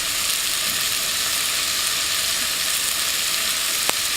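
A potato curry mixture with onions cooks in a pan, giving a steady, even sizzle that runs throughout with a single faint click near the end.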